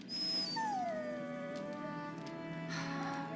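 A dog whimpers and whines in Dragon Age: Origins, a long high rising-then-falling whine followed by a softer sustained whimper, close and alone over a quiet game ambience.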